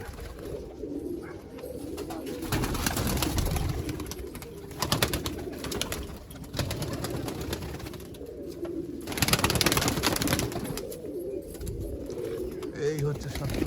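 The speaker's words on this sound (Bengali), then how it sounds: "এই দেখুন, এটা হচ্ছে টেডি পায়রা, এই গিরিবাস পায়রা এটা।" Teddy and Giribaz pigeons kept as show breeding pairs coo repeatedly in a loft, soft rolling calls close by, with surges of wing flutter and occasional talking over them.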